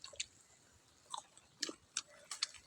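Roasted bamboo shoots from Laos being chewed close up, with four or five short, crisp bites and chews spaced out over a quiet background.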